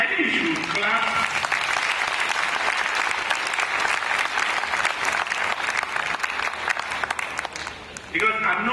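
Loud, dense clapping from a crowd at a university gathering, sustained for several seconds as a continuous crackle before it tapers off and talk resumes.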